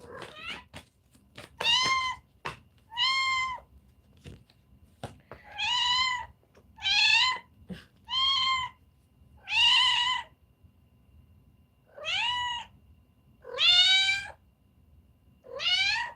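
A cat meows repeatedly, about ten clear, close meows spaced a second or so apart, loud against a quiet room.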